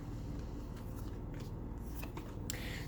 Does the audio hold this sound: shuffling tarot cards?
yes